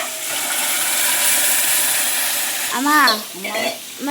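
Ground tomato curry paste hits a hot frying pan, a steady broadband sizzle running throughout, close and fairly loud, with a voice speaking briefly over the frying toward the end.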